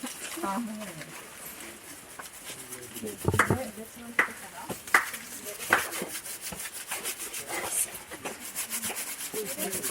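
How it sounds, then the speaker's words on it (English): Fresh sand is poured and scraped into a container at a Shimane shrine, with gritty rubbing and scooping sounds and a few sharper knocks, heard close under people chatting in English and Japanese. "Are you already putting sand in there?"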